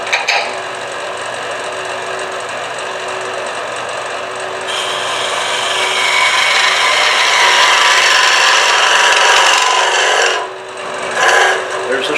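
Turning tool cutting a still slightly moist end-grain wood vessel on a lathe, a continuous loud close scraping hiss that swells midway, then briefly drops out and resumes.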